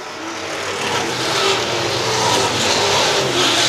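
Late model race cars roar around a local track during a feature race, their engines revving loud and continuous, with the pitch rising and falling as they pass.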